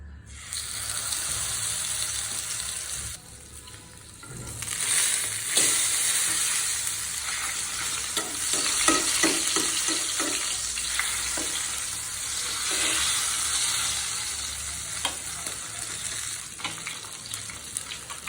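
Hilsa fish tail pieces rubbed with turmeric and salt dropped into hot oil, a loud, bright, continuous crackling sizzle that surges after a brief lull and keeps bubbling steadily.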